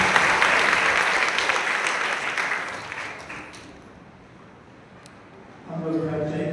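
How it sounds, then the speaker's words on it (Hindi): A church congregation applauds loudly and steadily, the clapping fading over several seconds until near silence, then people begin talking again. "जोरदार ताली बजाएंगे अपने स्थान पर।"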